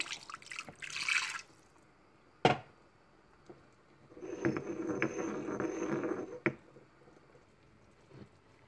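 Water is poured into crushed chili and peppers for banana fufu preparation, with a brief splash, a sharp knock, then a few seconds of trickling liquid among quiet kitchen clatter.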